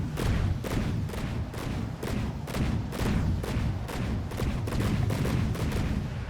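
A video-game gun fires rapidly at its maximum rate, a steady, fast string of sharp, loud shots repeating evenly and close up, with no pauses.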